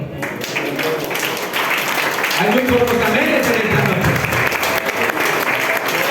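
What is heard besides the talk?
congregation applauding the Lord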